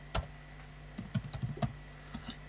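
Fingers tapping on a computer keyboard while entering a meeting agenda, a quick irregular run of soft plastic key clicks, close and quiet with nothing else heard.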